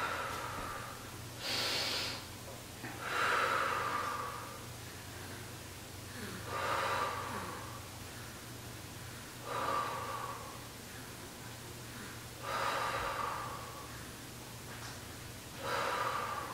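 Deep, slow breathing during a core exercise for diastasis recti, with several audible breath cycles rising and falling in a steady rhythm, close and fairly soft over a low background hum.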